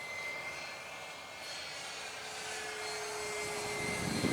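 A Vampire electric ducted fan RC jet at half throttle on a 2200 pack gives a steady, airy turbine-like whine that swells slightly as it passes closer, continuous and moderately loud.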